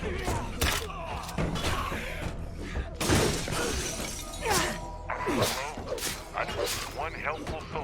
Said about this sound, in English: Let's break the glass